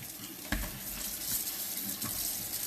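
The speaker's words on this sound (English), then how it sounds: "I'm going to clean my mushrooms" Mushrooms rinsed under a kitchen faucet, a steady close rush of running water hissing into a sink, with a brief splash as the stream shifts and nobody speaking.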